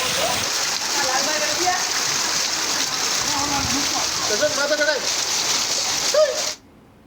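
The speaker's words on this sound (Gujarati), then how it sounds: "રાજકોટના ઉપલેટામાં સિઝનનો આ પહેલો વરસાદ છે" The season's first rain falls in Upleta, Rajkot, as a steady wash of rainfall that runs under a speaking voice and then cuts off abruptly near the end.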